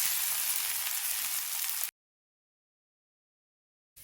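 A panangilangu adai dosai, a palm-sprout adai, sizzles in oil on a hot pan just after being flipped: a steady, fairly soft frying hiss that cuts off abruptly into silence.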